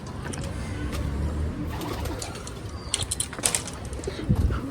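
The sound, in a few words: pigeons cooing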